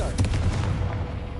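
A Confringo blasting spell goes off in a Hogwarts wizarding game as a short, booming burst that rumbles and fades within about a second.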